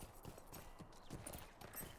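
In a fantasy video game, horse hooves clip-clop steadily over ground, with quiet, even rhythmic footfalls and a faint ambient background.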